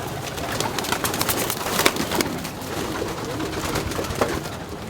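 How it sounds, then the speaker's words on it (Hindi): Madrasi pigeons coo continuously inside a home loft, a dense overlapping murmur of many birds with soft wing flutters, fairly close and steady throughout. "ये घर के कबूतर मद्रासी।"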